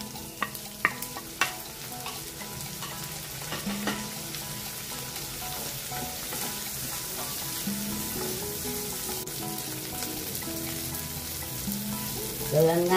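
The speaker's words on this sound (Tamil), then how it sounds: "வெங்காயம் தக்காளி நல்லா வதங்கிருச்சு" Onions and tomatoes sautéing in a pan for a tamarind kuzhambu, giving a continuous close sizzle with a few sharp spatula knocks early on and stirring scrapes throughout.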